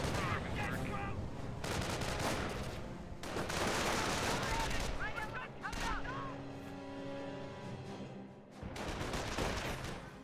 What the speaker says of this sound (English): Flamethrower firing away.